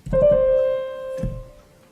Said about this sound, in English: So you play the note above, and then you go back to the note itself.